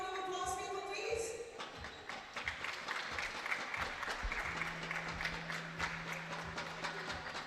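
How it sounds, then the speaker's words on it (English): Crowd applause at a European Championship women's air pistol trio event in Osijek, Croatia, a steady dense clatter of clapping heard throughout, with a brief sustained tone and some louder claps mixed in. "One big round of applause, people, please"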